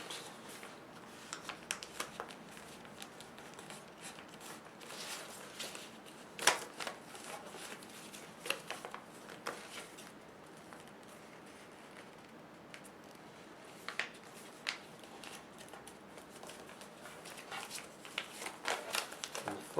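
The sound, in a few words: folding paper to make a bird boomerang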